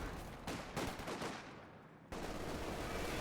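Tank cannon shots in Company of Heroes 2 boom over a constant roar of battle noise, with a heavy blast near the start and another sharp report about two seconds in, the whole scene dense and rumbling.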